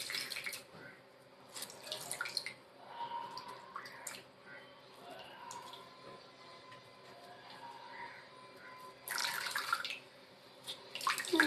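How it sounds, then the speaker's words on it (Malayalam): Tap water runs steadily over hands being washed in a home kitchen, with a soft continuous rush and a few louder splashing bursts near the start and end. "കൈ കൊണ്ട് പിഴിയുന്നതിന് മുമ്പ് കൈ നല്ല വൃത്തിയാക്കി കഴുകുക കേട്ടോ"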